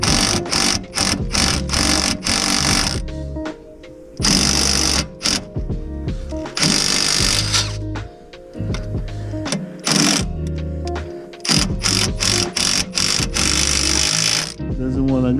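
Wrench or ratchet unscrewing an anti-roll bar link nut on an Audi A2 1.4 TDI, loud bursts of rapid mechanical clicking and rattling repeating in several runs with short pauses between.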